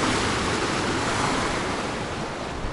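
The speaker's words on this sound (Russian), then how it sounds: "Да, ох, идет волна." Sea waves breaking on a Sochi shore near Matsesta, a steady broad roar of surf with wind noise and no pauses, loud and close throughout.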